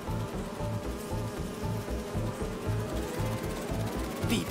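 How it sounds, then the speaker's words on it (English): Holographic bee wolves in Marvel's Spider-Man 2 buzz in a steady, pulsing drone of insect wings, fairly loud and close, with no voices over them. "Do you see those little holographic bee wolves?"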